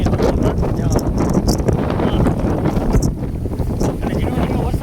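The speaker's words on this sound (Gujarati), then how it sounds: "અને હજી પવન એટલો ફૂંકાય છે." Strong wind after a storm that tore off roof sheets and toppled trees in rural Gujarat, buffeting the microphone in loud gusty rushes that rise and fall throughout.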